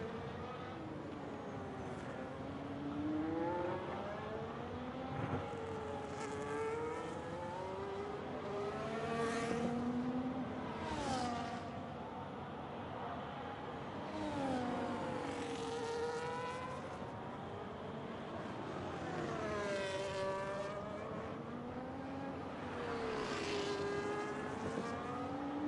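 A race car engine in a racing video game lapping the reversed Netherlands circuit, revving up and down through gear shifts and corners in steady cycles, with a continuous whining tone throughout and no talk.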